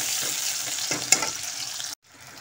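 Onions frying in a pan for an aloo-matar-paneer curry, giving a close, steady sizzle with a few stirring scrapes and one sharp clack, then cutting off abruptly near the end.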